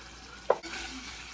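Hot dog chili sauce with chili powder and pepper is stirred in a hot pan, a single quick spoon scrape over a faint, steady sizzle, close and quiet.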